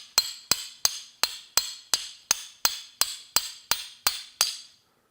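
Twelve sharp, evenly spaced hammer strikes ring out close and loud, each decaying quickly before the next, then the pounding stops; the hammer is being used to turn a fall colors pen.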